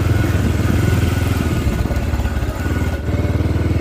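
A motorcycle rides along a muddy road full of large potholes after rain, its engine chugging loudly and close with a steady low throb and rattling clatter, the revs dipping briefly as the bike slows.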